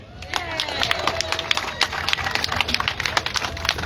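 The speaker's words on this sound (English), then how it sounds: "let's give a big round of applause to Ellie Vintage" An outdoor crowd at an Atlantic City rally gives a round of applause for poet Ellie Vintage, steady dense clapping with a few cheers and voices in the background.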